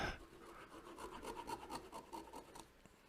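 A freshly sharpened parting tool cuts off a woodturning piece on the lathe, giving a steady rasping scrape with rhythmic pulses that runs close and alone for about three seconds.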